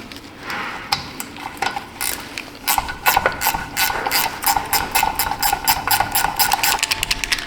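A ratchet wrench clicks while turning during fuel pump work on a 2018 GMC Sierra, with rapid sharp ticks in bursts that speed into a steady close rhythm, no talking.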